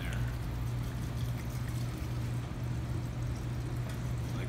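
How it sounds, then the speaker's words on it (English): Patron Barrel Select Hacienda Reposado tequila poured into a large jar, a steady continuous liquid pour heard up close with a low background hum, no talk. "Then we're gonna get our Patron Barrel Select Hacienda Reposado. We're just gonna pour that right in there."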